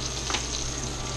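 Turkey meatballs frying in a pan give off a steady, dense sizzle that stays close and fairly loud throughout, with no voices over it.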